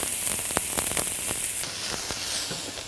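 Onion sautéing in a pan for soup, a dense, steady hiss of sizzling with scattered crackles and pops, close and fairly loud, with no voices.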